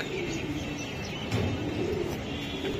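A racing pigeon coos softly in a steady, low murmur, close by, over a constant background hum with no talking.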